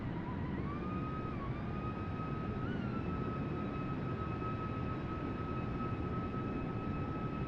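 Steady jet engine drone from an Airbus A320neo (A32NX) in Microsoft Flight Simulator, a continuous loud hum with sustained whining tones that bend slightly in pitch, no voices.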